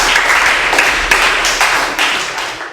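A classroom of students claps together after a game, a steady burst of close, fairly loud hand claps with rhythmic accents, fading slightly toward the end.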